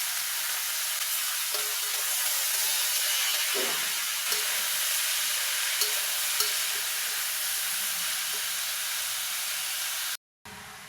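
Leafy greens sizzle steadily in a hot pan with dried red chilies, onion and plenty of garlic, under a continuous loud frying hiss with occasional scrapes from stirring and no talk.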